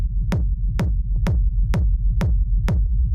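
A techno kick drum without an EQ Eight low-end boost thumps in a steady four-on-the-floor pulse, seven punchy hits with booming low tails, loud and alone.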